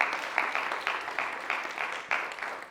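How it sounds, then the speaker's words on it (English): A lecture audience gives a short, moderate round of applause, steady clapping at medium distance. "can we have a big round of applause?"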